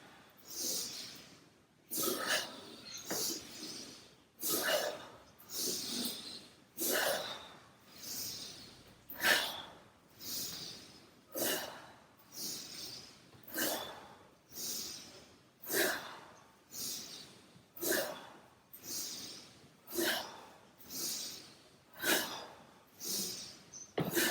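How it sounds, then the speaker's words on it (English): Rhythmic yoga breathing, exhaling through the nose or mouth in about sixteen regular breath cycles, each rising and falling in a soft, close, airy swell with no talking. "Breathing in, hands up. Breathing out through the nose or through the mouth."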